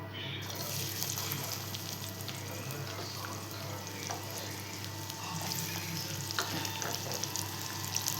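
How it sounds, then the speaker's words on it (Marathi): Chopped onion sizzles in hot oil in a kadhai, giving a steady, faint, even crackle that runs on its own without a break. "त्यात आपण आता टाकणार चिरलेला कांदा."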